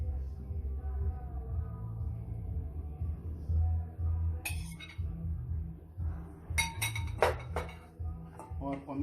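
White asparagus and cherry tomatoes being arranged on plates, with a low hum of handling, then sharp clinks and taps of utensils against dishes clustered toward the end, close and fairly quiet.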